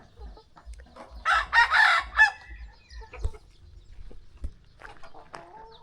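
Chickens and a rooster crow and cluck in a farmyard beside a new house, with ducks and water buffalo kept nearby; a loud burst of crowing comes mid-clip, then scattered clucks and faint voices.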